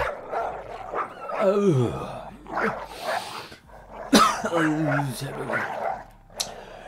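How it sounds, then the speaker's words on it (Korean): Several dogs bark and yip at a village entrance before dawn, sharp repeated barks rising over a person talking nearby, moderately loud and close. "그때 동네가 시끄러워지자 강아지들이 짖기 시작했습니다."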